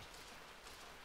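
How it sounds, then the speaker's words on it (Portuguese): Steady rain pours down in the survival game Surviving Titan, a continuous soft hiss of drops spread evenly through the whole moment with no voices. "Chovendo"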